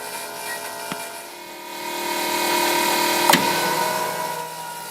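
An AirDog fuel air separation system runs alongside a vehicle engine, giving a steady whirring hum with faint tonal whine, a small click early on and a sharper rattling transient just past the middle.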